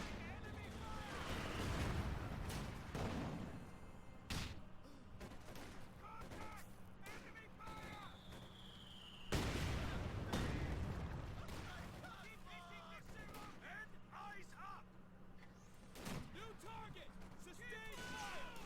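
Gunshots in Company of Heroes 2, a few sharp broadband bursts spread over a busy battlefield bed with steady background rumble and talk throughout; two louder blasts stand out near the middle and one later.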